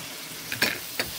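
Butter sizzling in a small cast iron skillet, a soft steady hiss with a couple of brief louder crackling bursts, close and alone.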